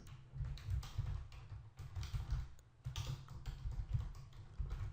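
Quiet typing on a computer keyboard while writing PHP code, a soft steady patter of keystrokes with brief pauses, close and faint.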